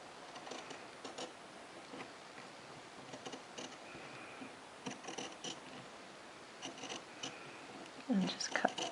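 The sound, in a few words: scissors cutting fabric along a flat felled seam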